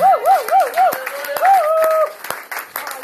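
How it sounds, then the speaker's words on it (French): A church congregation in Paris breaks into applause, scattered sharp claps under high warbling voices calling and ululating, close and lively before settling. "Est-ce qu'on peut applaudir le Seigneur?"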